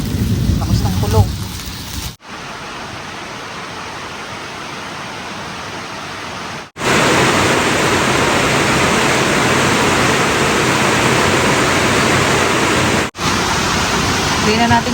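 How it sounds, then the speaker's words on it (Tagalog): Steady, dense rain pours down with a constant hiss and roar, loud and close, broken by a few abrupt cuts; a voice is briefly heard at the start. "Ang ulan, hindi huminto ang ulan."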